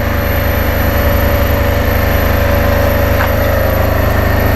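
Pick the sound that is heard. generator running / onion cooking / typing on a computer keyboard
generator running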